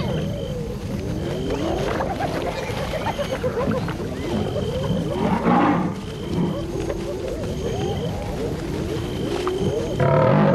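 Lions attacking a wildebeest on the Tanzanian savanna at night, with deep rumbling roars and growls repeating over a steady background hum, moderately close.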